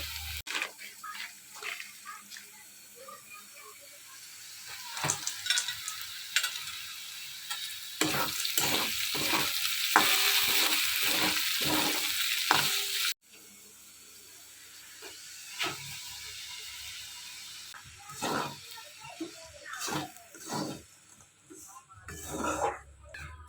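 Potatoes frying in a pan, stirred with repeated scraping strokes over a steady close sizzle that briefly drops and then returns, with no talking.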